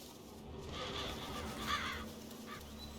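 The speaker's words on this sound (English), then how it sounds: "All I gotta do is follow the cawing." Crows cawing around a corpse in The Witcher 3, a few harsh calls rising over a steady low game ambience, moderately near and without talk.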